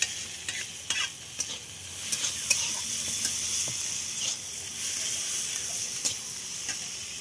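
Onions and green chillies sizzle steadily in hot oil in a pan, with a constant frying hiss broken by occasional scrapes and clinks of a stirring spoon.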